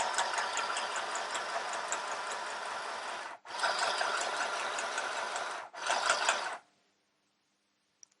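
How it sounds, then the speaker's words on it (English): Mini sewing machine stitching in two long steady buzzing runs and a short final burst, close and fairly quiet, then stopping into silence. "so now I'm going to sew"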